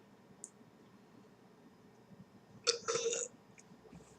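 A single close, drawn-out burp after drinking beer rises out of a quiet room, preceded by a small click.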